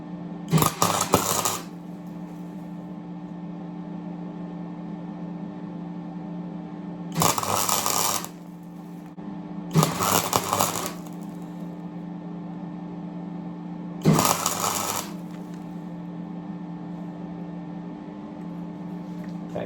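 Four short bursts of tack welding a bolt to a bearing on a Classic Mini upper arm, each a crackling buzz lasting about a second, over a steady electrical hum between welds.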